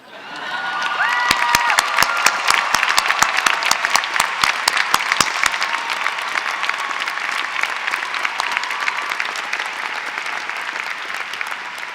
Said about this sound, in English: Will the students please stand up, cheer, and make more noise than anyone else has?